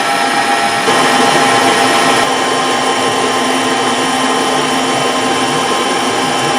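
Machine cutting splines at 330 revs, a loud steady whirring drone with a constant tone running the whole time, briefly stronger near the start, no talking.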